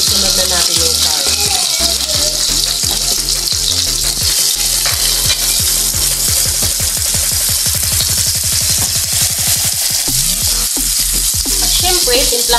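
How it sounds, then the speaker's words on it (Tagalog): Onions sizzle loudly in a hot pan while being stirred, with steady frying hiss and repeated scraping, clacking strokes of a utensil against the pan. "Huwag lang natin masyadong lutuin yung sibuyas para crispy siya."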